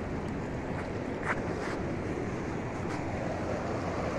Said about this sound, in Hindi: तो दोस्तों ये गर्हाट के लिए पानी है